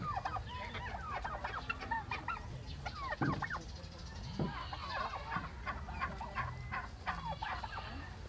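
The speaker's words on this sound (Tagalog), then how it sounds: "Ito po ang ating mga pabo" Several turkeys cluck and gobble in short overlapping bursts, a busy flock close by with steady outdoor background noise.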